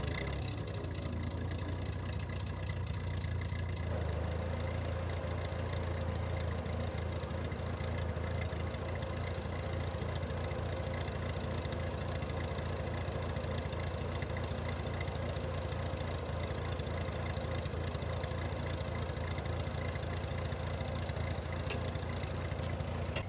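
A 1950 Ford 8N tractor engine runs with its PTO engaged, a steady close mechanical drone with a low throb, its tone shifting slightly a few seconds in, then holding evenly throughout.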